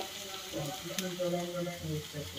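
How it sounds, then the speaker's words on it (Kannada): Cumin seeds, half a spoon, sizzle and crackle in hot oil in a pan while a Kannada-style fish curry is being cooked, a steady close frying hiss with faint stirring. "ಜೀರಿಗೆ ಹಾಕ್ತಾ ಇದ್ದೀನಿ ಅರ್ಧ ಸ್ಪೂನ್ ಫ್ರೈ ಮಾಡೋದಕ್ಕೆ"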